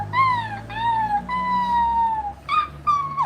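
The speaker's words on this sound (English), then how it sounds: "I hear puppies," Puppies in Rwanda cry out in a series of high-pitched, wavering whines and yelps, several drawn-out calls followed by two short ones, loud and close, with no talking.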